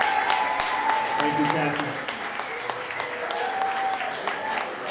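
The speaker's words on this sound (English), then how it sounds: "How about a nice round of applause for them?" An audience applauds the Union Rotary at a charity networking event, with a steady patter of clapping carrying on beneath a voice speaking briefly.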